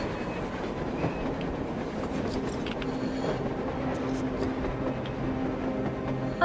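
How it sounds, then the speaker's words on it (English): A train rolls along on the surface in the post-apocalyptic video game Metro Exodus, a steady rumbling clatter of wheels and carriages with sporadic metallic clicks, loud and continuous throughout. "A train! A damn train on the surface!"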